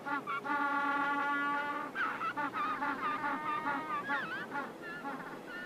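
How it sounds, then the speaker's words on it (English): Loud, harsh honking brays repeat in quick succession, several African penguins calling over one another up close with a nasal, donkey-like tone. "African penguins are sometimes referred to as jackass penguins due to their distinctive braying call"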